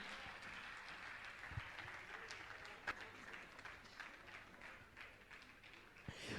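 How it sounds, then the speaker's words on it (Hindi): Scattered applause from an audience honouring guests at a Jain religious gathering, a fairly quiet wash of clapping held steady throughout with a few sharper taps standing out. "जोरदार ताली बजाकर इनका सम्मान करें"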